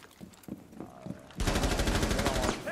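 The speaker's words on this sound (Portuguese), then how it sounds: "vai ver a velocidade que ele atira com a pistola" Rapid pistol fire in a Ubisoft game, a fast, evenly spaced string of loud sharp shots that starts abruptly midway and runs to the end, preceded by a few quieter scattered pops.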